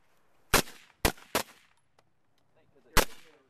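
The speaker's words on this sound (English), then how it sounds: "Full auto, or should I go ahead and try fire it a couple times so you get the feel of it and know what the gas feels like" Suppressed 5.56mm rifle firing, four sharp, loud, close shots, three in quick succession and one more after a pause of over a second, each with a short decay, no talking.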